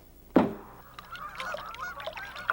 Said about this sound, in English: The sound of geese heading north made me even more anxious to get the project underway.